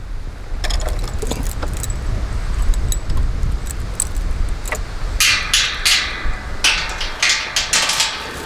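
Metal gate hardware rattles and clanks at a horse stall as the gate is secured, with scattered clicks and jangles followed by a run of louder, rhythmic metallic knocks close by.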